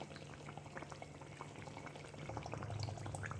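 Ripe mango malpua batter bubbles and sizzles in hot oil over a high flame, a soft steady crackle that swells slightly louder toward the end.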